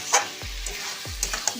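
A spoon scrapes and stirs chicken frying in a pan for village-style chicken kosha, giving two quick scraping strokes over a steady, close sizzle with no talking.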